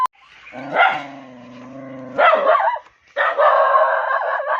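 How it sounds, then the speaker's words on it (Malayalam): A dog barks close and loud in a series of drawn-out, whining, howl-like barks separated by short pauses, alone with no talking. "അവളവിടെ നിന്ന് കുരയ്ക്കുന്നുണ്ട്"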